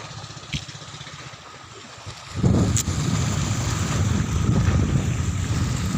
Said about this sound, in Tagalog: yan pong bangka na sasakyan namin yan